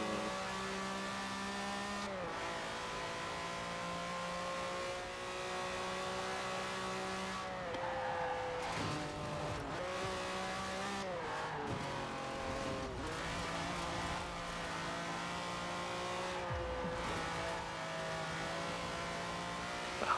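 Lamborghini Countach race car in the Forza racing game, rear-wheel drive, launching from the start with wheel spin, followed by sustained engine revving through repeated gear shifts and tire squeal, loud and continuous, with other race cars around and no talking.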